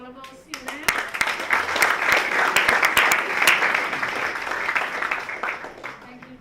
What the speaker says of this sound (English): a round of applause for all of our students